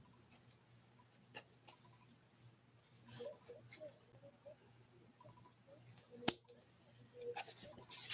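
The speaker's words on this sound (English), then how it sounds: "And then I'm going to take my scissors" Scissors trimming ribbon at a paper-crafting desk, a few scattered quiet snips and small handling clicks in an otherwise hushed room.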